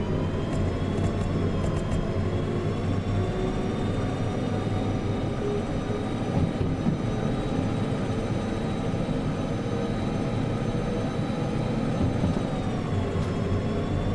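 Locomotive accelerating under throttle in Derail Valley, a steady, loud mechanical engine drone with a low rumble and a faint high whine running unbroken throughout, with no voices.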